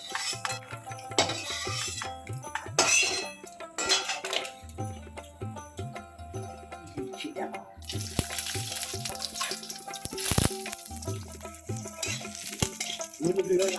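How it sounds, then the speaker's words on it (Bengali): Lentil dumplings (bori) frying in oil in a pan for a Bengali vegetarian curry, a continuous close sizzle with scraping and stirring clatter, growing busier and louder partway through, without talk. "বড়িগুলো লাল করে ভেজে নেব।"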